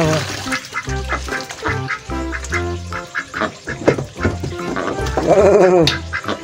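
Ducks on a pond, crowding in for thrown food, quack loudly and repeatedly up close in a dense, overlapping, raspy chorus.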